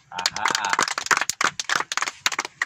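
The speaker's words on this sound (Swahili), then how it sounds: "Akimaliza tumpigie makofi." Children at Great Hope Children's Home clap for a classmate, a quick run of close, sharp claps in uneven bursts with voices mixed in.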